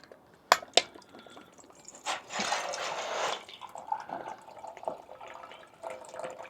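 Water being poured for a Mountainhiker camping stove. A couple of sharp clinks come first, then a short gush of liquid into a container, then scattered drips and small knocks, all close by.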